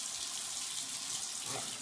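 A bathroom tap runs during tooth brushing, a steady broad hiss of flowing water filling the sink throughout, fairly close, with a brief faint voice near the end.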